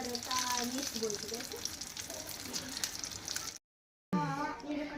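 Chocobar ice cream bhajji fries in hot oil, giving a steady close sizzle and crackle with bubbling pops, briefly cut to silence near the end before the frying resumes.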